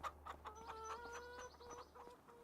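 Chickens cluck in the video game Farming Simulator 25, a run of quick clucks and short calls from several birds, fairly faint and steady against a low hum.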